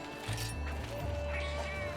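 Faint cat meows from a cat character in the video game Monster Hunter Generations Ultimate, heard over a low steady game background hum and music.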